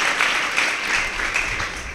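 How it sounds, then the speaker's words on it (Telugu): Steady clapping from a church congregation fills the space, dense and sustained throughout with no pauses. "చప్పట్లు కొడతాం అందరం కూడా"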